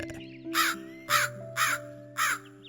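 A black crow caws four times in an evenly spaced series, loud and close, over a quiet background with a faint steady hum.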